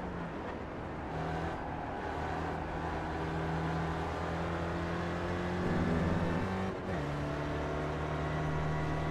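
A Skip Barber race car engine drones steadily in the iRacing sim at Watkins Glen, holding a sustained mid-pitch tone, then dipping briefly as the driver brakes before the revs climb back up.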